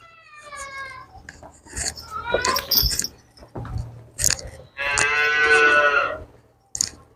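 A black Jersey cow moos loudly several times nearby, long drawn-out lows with short pauses between, plus some rustling and chewing sounds.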